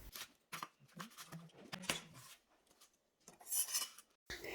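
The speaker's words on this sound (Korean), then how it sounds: "그 다음에 우리 상추도 먹기 좋게 썰어주세요." A knife slices lettuce on a cutting board, producing soft, irregular chopping and rustling strokes up close, with brief pauses between bursts of cutting.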